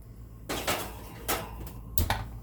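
A pan holding a tortilla omelette with eggs and veggies being slid into an oven broiler, with metallic scrapes and clanks: three distinct rattling bursts over a low kitchen hum.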